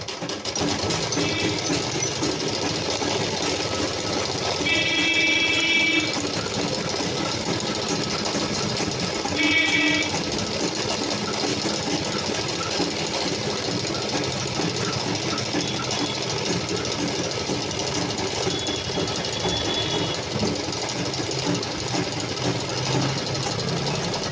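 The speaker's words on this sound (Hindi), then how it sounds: "इसके बगल में एक और सिलाई लगा देंगे, जिससे कि ये थोड़ा मजबूती आ जाए" A sewing machine runs steadily while stitching a second reinforcing seam along a petticoat waistband, a continuous close mechanical whir with small shifts in pace around the middle and no voices.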